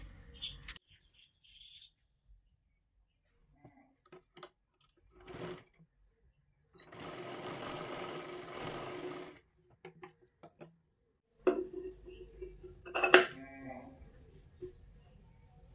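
A sewing machine runs in short bursts and one longer steady whir while stitching a size 32 katori blouse, separated by quiet pauses, with faint bird chirps and brief speech nearby.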